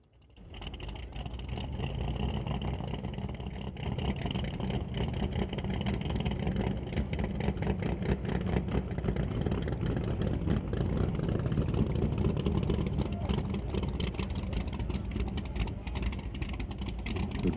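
Nitrous-fed big-cubic-inch drag racing car at a racetrack, its engine idling and revving in a continuous rumbling roar heard from a distance, steady for the whole stretch.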